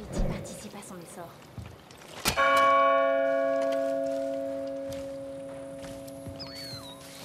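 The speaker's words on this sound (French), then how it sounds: "il faut sonner la cloche pour que l'ours se pointe" A large bell is struck once in the game Far Cry New Dawn, giving a sharp clang followed by a long, slowly fading ring, with faint voices audible in the background.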